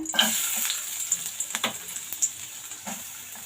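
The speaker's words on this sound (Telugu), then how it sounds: "ఇప్పుడు ఫస్ట్ మనము ఆనియన్స్ వేపుకుందాము" Onions fry in hot oil in a pan on the stove, giving a close, steady sizzling hiss broken by scattered small pops and crackles, with no talking.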